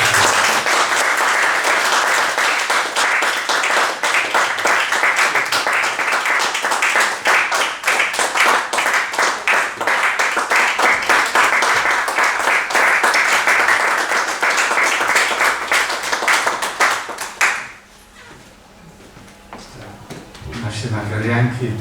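A full audience at an evening of music and conversation applauds loudly and steadily for a long stretch, the dense clapping cutting off abruptly and leaving quiet room tone with faint voices.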